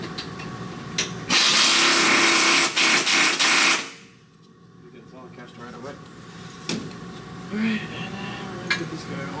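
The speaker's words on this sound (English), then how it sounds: "you can get your electric impact or whatever" An electric impact wrench tightens a subframe nut on a Toyota Corolla E210 hatchback, giving a loud, steady whirring rattle for about two and a half seconds that then cuts off, followed by quieter shop sounds and speech.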